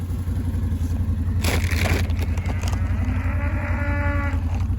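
Cows on a farm moo loudly and nearby, with a long drawn-out low call rising over a steady rumbling background hum and some crunching, no talk.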